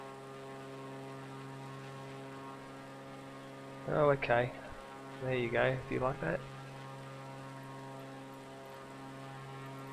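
A propeller plane's engine in Flight Simulator 2020 drones as a steady, even hum with layered tones, holding at a constant level while someone speaks briefly over it in the middle.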